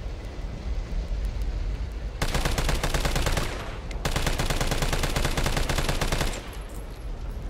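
An assault rifle in the Resident Evil 3 Demo fires two long, loud automatic bursts of rapid evenly spaced shots, separated by a brief gap, with game ambience before and after.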